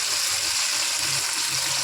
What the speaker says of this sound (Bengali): 4টে মাছ ভাজছি